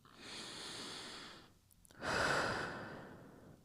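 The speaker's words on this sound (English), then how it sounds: "A couple of deep breaths whilst you're here." Slow deep breathing held in a child's pose stretch during a pregnancy workout for pelvic girdle pain, two long airy breaths with a short pause between, close and soft.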